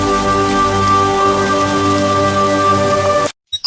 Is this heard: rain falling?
yes